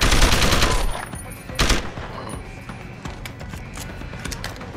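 Sharp bursts of gunfire crack in quick succession, loud and close, followed by scattered shots and clatter in a busy soundscape from the video game Deus Ex: Human Revolution.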